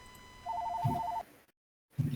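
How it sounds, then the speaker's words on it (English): An electronic telephone ring trills once for under a second, clear and fairly close, then cuts off to near silence before a brief low thud. "Oh dear, phone call."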